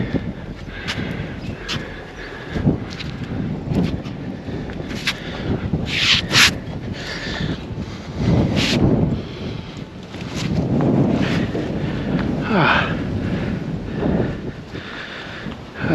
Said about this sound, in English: Still really windy though.